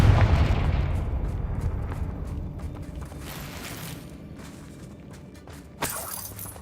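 Confringo fire spell cast in Hogwarts Legacy, a loud burst up front that fades into a rumbling, crackling tail, then a second sharp impact near the end.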